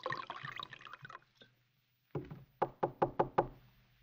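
Five or six sharp knocks rap on a wooden door in quick succession, close and crisp, after a stretch of muffled background sound and a brief silence.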